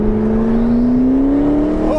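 A McLaren 650S Spider's turbocharged engine whirs up steadily over two seconds, a loud, close, rising mechanical whine under a continuous engine drone.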